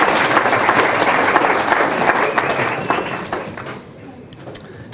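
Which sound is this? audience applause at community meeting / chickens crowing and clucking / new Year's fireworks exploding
audience applause at community meeting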